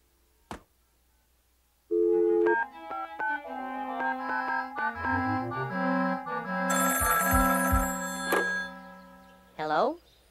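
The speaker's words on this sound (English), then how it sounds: "You stay there. I'll phone Goo and Pokey to help." A telephone is dialed in a cartoon, with a sequence of short tonal beeps and clicks rising and falling in pitch, then a bright ringing burst. The tones are clear and close, with sparse thuds and no talk over them.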